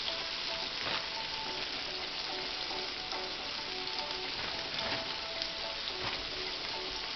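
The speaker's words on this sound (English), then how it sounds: "We're going to let that fry for about 7 or 8 minutes on one side" Pieces of fried chicken sizzle in hot oil, a steady, close, crackling hiss with small pops scattered throughout, continuing evenly with no talking.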